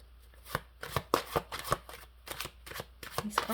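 Tarot cards shuffled by hand in a series of crisp, papery riffling bursts at an uneven rhythm, close and moderately loud, with no talking.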